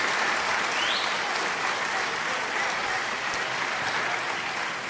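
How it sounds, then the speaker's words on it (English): Classroom applause from a group of students fills the space, steady dense clapping held at an even level for several seconds, moderately distant. "You deserve a round of applause."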